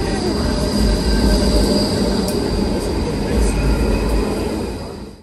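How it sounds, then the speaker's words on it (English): A tram arriving at a station in Ghent, Belgium rumbles steadily nearby with low rolling wheel noise and faint high squeals, the sound tapering off at the end. "Waiting for the tram to the station."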